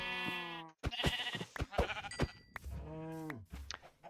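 A sheep in the video game Minecraft gives several short, wavering bleats, loud and close, separated by quick clicks and game sounds.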